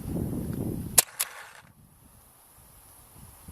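An airsoft gun with a barrel kit fires one shot, a sharp close crack followed by a second quick snap, after which the sound drops to near silence.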